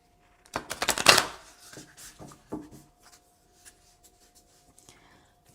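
A deck of oracle cards is shuffled close by: one brisk, loud riffle of card edges followed by several softer rustles and taps as the deck is handled, with no speech.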